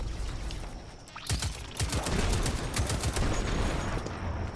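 Enemy gunfire from the video game Destiny 2 rings out in sharp, rapid bursts of shots at mid distance over a constant game ambience, with no voices.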